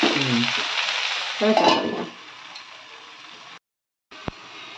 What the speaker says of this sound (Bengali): ছোলাটাও একটু ভাজা হবে